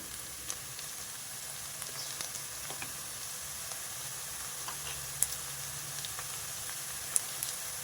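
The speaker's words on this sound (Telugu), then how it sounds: "ఆ వెల్లుల్లిపాయ ఉల్లిపాయ వేగింది కదా" Garlic and onion frying in oil for a garlic chicken curry give a steady, soft sizzling hiss dotted with scattered faint crackles and pops, heard close and alone.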